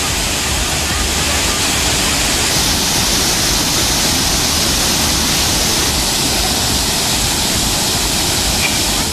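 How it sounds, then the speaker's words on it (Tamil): Water roars down the main falls at Hogenakkal on the Kaveri river, swollen by an inflow of 6,500 cubic feet per second. The roar is a dense, unbroken hiss that stays loud and steady throughout. "ஒகேனக்கல் மெயின் அருவியில் தண்ணீர் ஆர்ப்பரித்து கொட்டுகிறது"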